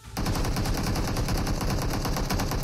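Gunfire in the video game PUBG Mobile, a sustained rapid burst of automatic shots beginning abruptly and continuing steadily, loud and close, with no talking.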